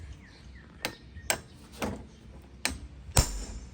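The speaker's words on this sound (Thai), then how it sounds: "เดี๋ยวเรามาตอกให้ เพื่อนๆได้ ดูกันนะครับ นี่นะครับ วิธีการตอก" Five sharp metallic hammer blows, spaced about half a second apart and close to the mic, knocking out a motorcycle handlebar end that was fixed with thread-locking compound on a Giorno scooter.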